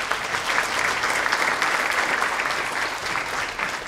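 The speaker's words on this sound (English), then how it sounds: "So if you could also give them a round of applause as well." Sustained applause from an audience at the opening session of a Making Oregon Count 2020 event, many hands clapping evenly throughout.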